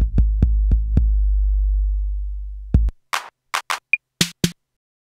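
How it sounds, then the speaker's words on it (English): An 808-style drum machine preset from the Fabla plugin running on a Zynthian groovebox: a run of booming kick hits with long low decay, then crisp snare, clap and hi-hat hits in a quick pattern, played alone. "I'm going to use the Fabla plugin here, which is some kind of 808 drum machine"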